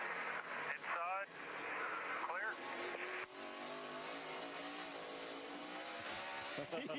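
A NASCAR race car held at full throttle during a replay of the 2012 Montreal race, a loud sustained engine roar with rising and falling pitch, heard under commentators' talk.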